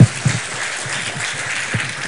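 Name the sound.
congregation applause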